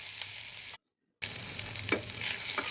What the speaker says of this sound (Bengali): কাঁচামরিচ পেঁয়াজ ভেজে এখন আমি আদা রসুন দিয়ে দিলাম।